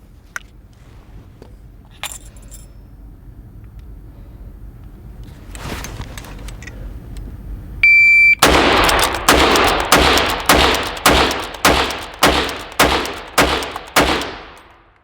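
Ten bolt-action rifle shots in 7.62x39 fired at close range, loud sharp cracks spaced about half a second to a second apart, each with a short decay, after quieter handling noises and a few faint distant reports.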